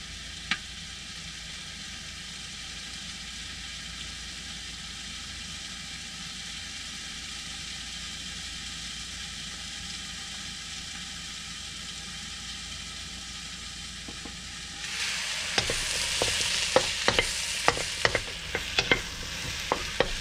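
Stir fry sizzling in an electric wok for supper, a steady frying hiss that turns louder and busier near the end as sharp scraping clicks of stirring break in.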